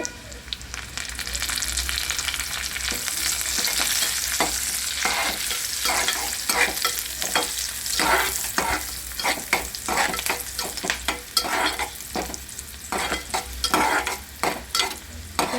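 Sizzling and crackling of curry leaves frying in hot oil, with a steady hiss broken by sharp pops and stirring scrapes throughout.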